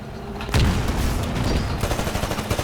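Grenade explosions and gunfire in the video game Titanfall on Xbox One: one loud boom sets off a dense, sustained rattle of shots and blasts that runs on without a break.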